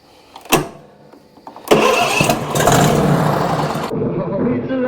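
A junkyard John Deere zero-turn mower engine gives a sharp click, then cranks, catches and runs loud and close; excited voices ring out over the running engine.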